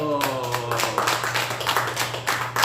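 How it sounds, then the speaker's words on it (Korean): A laughter-therapy group claps along in a class session, a quick run of hand claps layered over a held sung or spoken tone at the start, with busy rhythmic claps continuing throughout. "박수"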